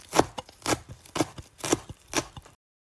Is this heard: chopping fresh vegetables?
yes